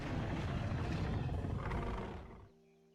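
An Allosaurus growl from the video game Dinosaur Simulator, in its remodeled version: a loud, rough, rumbling growl that holds steady for about two seconds, then trails off and ends abruptly.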